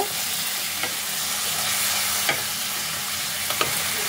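Spices with salt and sugar are stirred in a hot frying pan for a small-potato aloo dum, producing a steady loud sizzle with a few sharp scraping clicks of the spatula and no talking.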